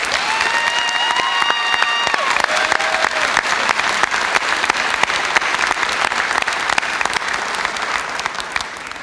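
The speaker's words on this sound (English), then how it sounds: "Students, let's give the faculty a round of applause." A college commencement audience gives a sustained, even round of applause for the faculty, with a few whistles and cheers near the start.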